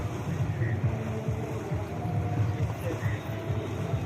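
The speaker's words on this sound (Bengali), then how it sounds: "সেই দেখো নৌকাগুলো মাটি বালি কাটছে" Sand-dredging boats on a river give off a steady low motor rumble, heard from nearby with gusting wind noise over it.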